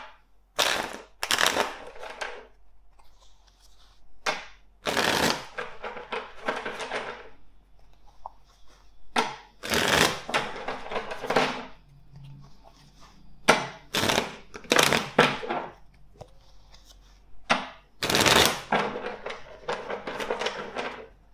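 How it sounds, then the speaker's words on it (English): A deck of tarot cards shuffled by hand for a love reading, heard as several bursts of rapid riffling clicks separated by short pauses, close and fairly loud with no talking. "Let's first shuffle the deck four times for you"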